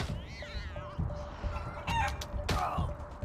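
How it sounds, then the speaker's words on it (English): Chicken clucking and crowing from the Wasteland 3 video game, set on a post-apocalyptic Colorado battlefield, with several short squawks and a louder crow over a steady game soundscape. "the chicken did 17 damage. Strong chicken"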